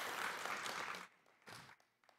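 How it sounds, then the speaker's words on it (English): Audience applause at a student awards ceremony, a brief burst of clapping that cuts off after about a second, followed by a few scattered claps and faint room noise. "So, round of applause for David Cassidy."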